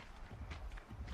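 Horse hooves clip-clopping at a walk in the video game Horizon Zero Dawn, soft steady thuds under a low rumbling game soundscape.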